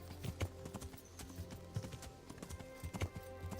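Galloping horse hooves pound in repeated quick clusters in Kingdom Come: Deliverance, loud and close with a steady rhythm under light background game music.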